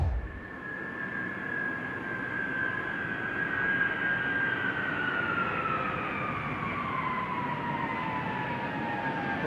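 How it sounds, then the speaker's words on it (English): A military jet aircraft roars steadily overhead on its last flight to the Boneyard, a broad rushing noise with a whining engine tone that slowly drops in pitch as it passes. "We're bringing this airplane here."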